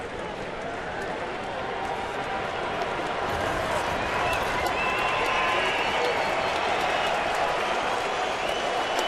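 A baseball stadium crowd applauds a strikeout with a broad, sustained wash of clapping and crowd noise, heard from a distance and steady throughout.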